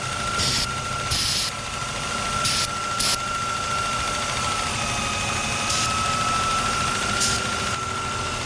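BMW E36 engine idling roughly during a vacuum leak test, a steady mechanical drone with a constant whine and faint irregular ticking, close and unchanging.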